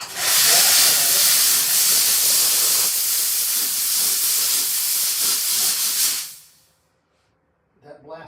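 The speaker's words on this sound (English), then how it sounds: "I have a steam cleaner here that" A steam cleaner blasts investment off a freshly cast piece of gold jewelry at a workbench, giving a loud, continuous hiss that holds steady for about six seconds and then cuts off. A brief clatter follows in the silence.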